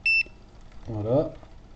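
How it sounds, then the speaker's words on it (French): A short electronic beep from a multimeter in continuity mode sounds once, sharp and clear, as probes touch a laptop motherboard, followed by a brief spoken word. "Si je touche, ça bip. Donc il y a la continuité."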